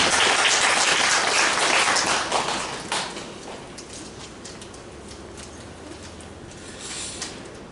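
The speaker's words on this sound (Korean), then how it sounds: "박수로 맞아줬습니다." A church congregation claps after a choir performance, a dense burst of applause that fades to scattered light clapping and then a quiet room.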